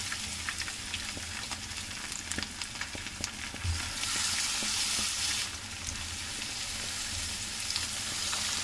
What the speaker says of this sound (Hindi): सेकंड बैच की जो मछली रहेगी वो मैं डालकर इसमें फ्राई कर लूँगा